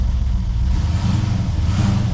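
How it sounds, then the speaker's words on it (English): A 1998 Holden VT Calais 5.0L V8 revs hard in reverse with a badly slipping gearbox, a loud, steady low engine drone that stays up without changing pitch, close by. "So I'm revving it and it's not moving."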